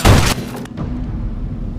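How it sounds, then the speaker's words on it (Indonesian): A single loud gunshot to the head in a film scene: a sharp, forceful blast up close, followed by a short fading tail and low background rumble. "dia langsung menembak kepala Head"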